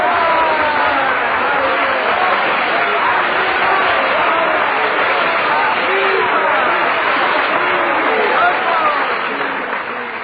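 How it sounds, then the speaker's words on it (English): A theater audience bursts into sustained applause and cheering for a pianist returning for a short encore, a dense, loud wall of clapping that holds steady and eases slightly at the end. "But the applause and cheers force him to do a short encore."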